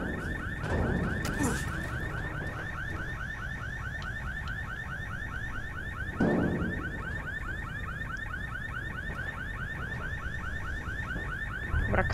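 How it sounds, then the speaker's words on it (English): A looping alarm blares in the video game Dying Light, a steady rapid pulsing wail repeating without pause for the whole stretch, loud and close, with occasional low thuds and rumbles of game action underneath. "Tym alarmem też trzeba by się zająć."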